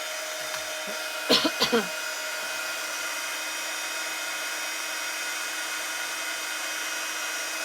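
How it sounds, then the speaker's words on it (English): A handheld heat gun for embossing on vellum blows with a steady, close airy whir that holds evenly throughout, with a few short knocks and handling clicks near the start. "And then I'm going to get my heat gun and a little bit of noise"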